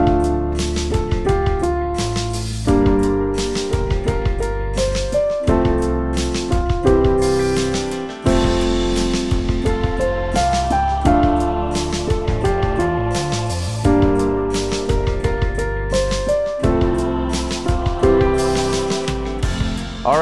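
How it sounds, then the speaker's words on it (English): Solo piano plays a chorus in an intermediate-level arrangement, with steady chords and a melody line running continuously and clearly, no voices. "I'm gonna be showing you the chorus from our intermediate level arrangement from our app"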